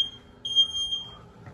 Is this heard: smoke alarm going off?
yes